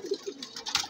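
A prize-winning racing pigeon gives a short, soft, low coo of a couple of quick notes, close by and alone, with a faint airy hiss behind it.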